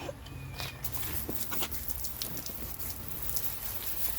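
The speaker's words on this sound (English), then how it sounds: "It's raining" Steady rain falls outdoors in a Pacific Northwest forest during autumn, a continuous close patter of drops with no breaks throughout.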